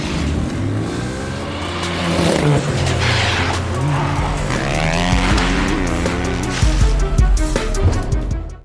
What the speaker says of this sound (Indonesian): mengadakan sebuah acara balap liar